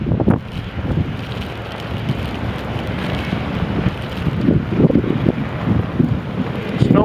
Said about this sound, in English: 30 inches of snow. 40-mile-an-hour winds